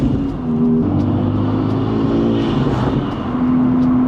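Honda Civic Type R with an AWE exhaust and PLM catted downpipe drones loudly and steadily, its engine tone shifting in pitch as it pulls, close and continuous.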